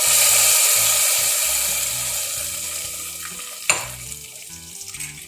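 A hot tempering of shallots and curry leaves is poured into a coconut bean curry and sizzles loudly. The frying hiss fades over a few seconds, with a brief clatter from a pan or utensil near the end.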